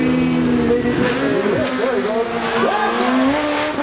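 Drag racing launch at Great Lakes Dragaway: a loud, sustained engine roar with pitch sweeps and tire squeal as the machine leaves the line, with crowd chatter underneath.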